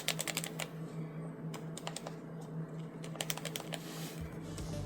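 Keystrokes on a Wooting 80HE gaming keyboard, a quick run of close, crisp clicks followed by a pause and then another fast burst, alone over a low steady hum.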